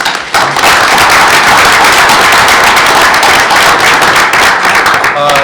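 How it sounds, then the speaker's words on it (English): A loud, dense round of applause fills a board meeting room, sustained clapping from many people that stays steady for several seconds. "So let's give him another round of applause."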